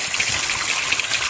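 Water gushes steadily from a tap over freshly picked jabuticaba fruit being washed, a loud, continuous hissing splash with no pauses.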